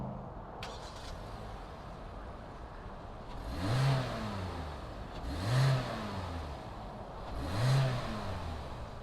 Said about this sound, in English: fire up this 2020 Forte GT line and see what it sounds like.